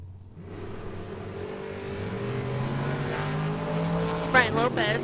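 Drag racing cars, one of them a Camaro, launch down the strip at a dragway, a steadily building engine roar rising in pitch with a sharp rev burst near the end, heard from trackside.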